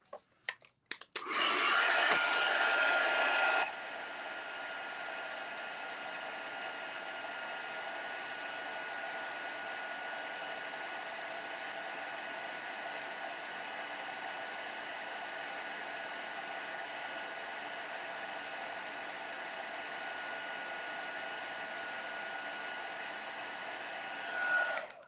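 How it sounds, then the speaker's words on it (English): A heat gun blows steadily at close range to heat set embossing on a handmade card, a loud burst at first that settles into a long, even, hissing airflow. "Okay, so we'll heat set that. Let's get our heat gun in here."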